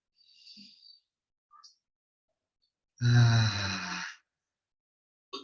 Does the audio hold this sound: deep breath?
yes